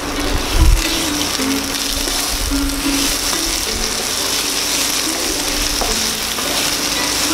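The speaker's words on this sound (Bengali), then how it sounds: "আঁচটা মাঝারি রেখেই কষাতে থাকুন।" Taro leaves with chickpeas and grated coconut are stir-fried over medium heat in a kadai, giving a steady close sizzle with recurring scrapes of stirring throughout, and no voices.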